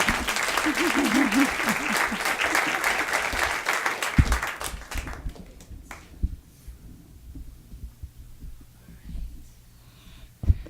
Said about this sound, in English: how about another round of applause for Terrell?